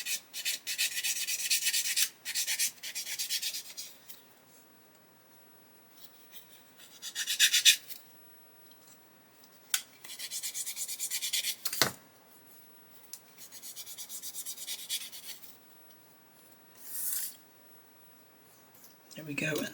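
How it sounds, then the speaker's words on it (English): Dry rasping rubs of a hard sanding stick on a plastic model part in short bursts of repeated strokes, close by, separated by quiet pauses, with a single sharp tap partway through. "we can get in there with our nice hard sanding stick"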